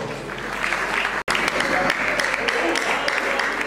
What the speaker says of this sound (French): c'est là sous vos applaudissements